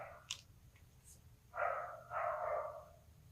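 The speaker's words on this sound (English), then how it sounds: "my neighbors let their dogs out" Neighbors' dogs barking outdoors, two short distant barks after a few faint yips, moderately quiet over a low background hum.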